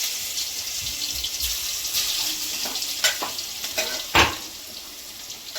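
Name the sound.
cumin, bay leaf, ginger-garlic paste sizzling in oil for dal fry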